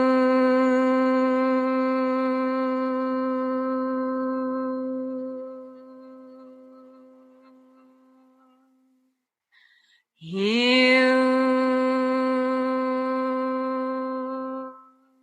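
A single voice sings a long, steady sustained tone, fades out, then after a short breath sings another long held note.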